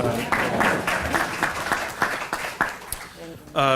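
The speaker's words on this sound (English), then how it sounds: "we should give her a round of applause" At a membership meeting, the audience gives a teacher a round of applause: moderate, somewhat uneven clapping that runs under and around a speaking voice, with a louder burst near the end.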